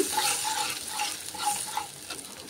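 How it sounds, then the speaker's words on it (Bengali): Mustard paste water poured into a pan of frying fish curry, with a steady sizzle and bubbling plus a few soft stirring scrapes, close and moderately loud. "যে সর্ষেটা বেটে রেখেছিলাম সেই সর্ষে বাটার জলটা আমি এর মধ্যে দিয়ে দেব। এটা ভালো করে একটু ফুটতে দেব।"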